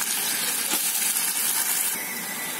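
Chopped onion dropped into hot oil for mutton keema gives a steady, loud, close hiss of sizzling that holds evenly throughout with no talking.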